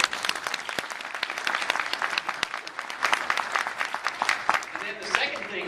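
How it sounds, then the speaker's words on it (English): Coldwell Banker agents at a Virginia Beach rally break into applause, a steady patter of many hands clapping that swells slightly midway and tapers toward the end, fairly distant and filling the room. "So give yourselves a round of applause."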